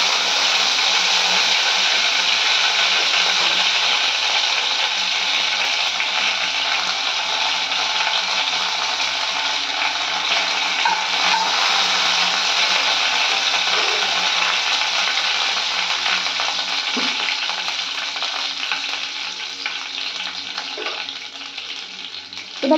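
Mustard seeds and curry leaves sizzle steadily in hot oil for an egg and cabbage dish, a loud, continuous frying hiss with faint crackles throughout.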